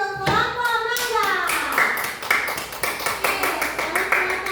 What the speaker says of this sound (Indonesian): Tepuk tangan dulu untuk kelompok mangga.